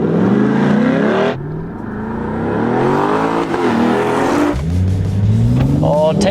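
A Chevy Corvette Stingray with dual clutch transmission and a turbocharged Toyota GR Supra launch side by side in a drag race, engines revving loudly and rising in pitch through gear changes, close by, with talk over the top.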